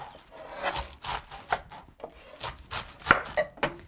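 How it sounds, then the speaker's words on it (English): A knife finely chopping red cabbage, cut side down on a board for a 4th of July meal: a run of crisp, close thuds and slicing crunches at an uneven, fairly quick rhythm, with no talking. "finely chopping our red cabbage"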